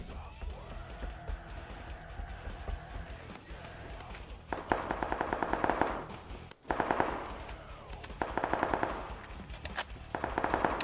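Automatic gunfire in a shooter video game comes in several rapid bursts, each a quick stream of sharp cracks. The bursts are separated by quieter stretches of lighter ambient noise.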